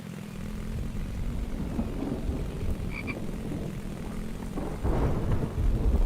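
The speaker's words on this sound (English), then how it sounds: "And raining now." Steady rain falls outdoors in 42-degree weather during a thunderstorm, a dense continuous hiss with low rumbling underneath that swells louder toward the end.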